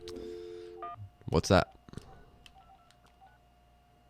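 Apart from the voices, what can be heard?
telephone dialing tones for a phone call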